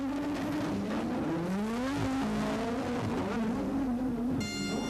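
A Ferrari and Boutsen's car from the 1987 Formula 1 season rocket out of the pits together after their stops, with close, loud engines screaming through rising and falling revs for the whole stretch.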